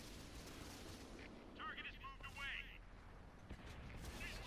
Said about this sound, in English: Oh my god, an artillery is all over us.